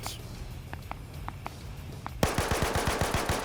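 Sustained burst of video game gunfire as a full magazine is emptied at an opponent, a rapid even run of sharp shots loud and close after a stretch of quieter background noise.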